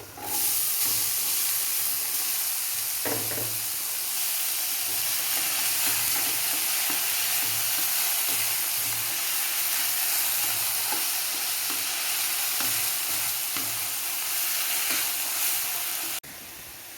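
Beans and banana stem stir-fried with onions in a pan: a continuous close hiss and sizzle with repeated soft scrapes of a spatula stirring, cutting off sharply near the end.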